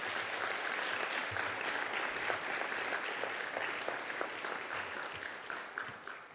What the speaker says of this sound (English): Please give another round of applause for these amazing people